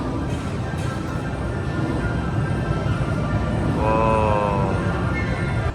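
Steady low rumble of a moving Hogwarts Express theme park train ride car with a continuous rolling drone, and a faint tonal whine rising briefly partway through.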